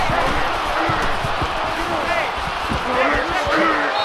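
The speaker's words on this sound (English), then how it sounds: "This crowd can really be intimidating for an opposing team." A stadium crowd roars during a college football game in NCAA Football 2014, a dense continuous wash of noise with scattered dull thumps throughout.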